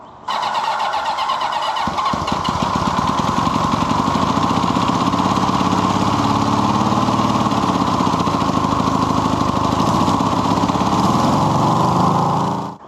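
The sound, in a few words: motorcycle engine starting and revving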